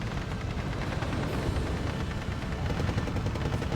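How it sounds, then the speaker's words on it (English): Machine gun suppressive fire rattles continuously in a Steel Division 2 battle, a dense, steady stream of distant shots over a low rumbling backdrop, with no talk. "MG just laying down that suppressive fire"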